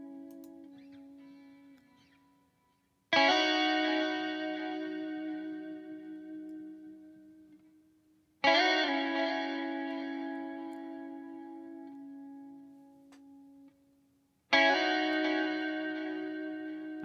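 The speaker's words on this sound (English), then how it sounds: "And now this is with the chamber reverb." Ambient guitar chords washed in chamber reverb, three strummed attacks that each bloom and fade slowly into a long lingering tail, spacious and unaccompanied by speech.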